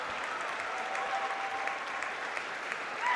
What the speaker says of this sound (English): You can hear the crowd applauding the All Blacks as they leave.